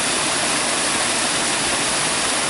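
Waterfall pouring down layered rocks, a loud, steady broadband roar of rushing water, close and unbroken throughout.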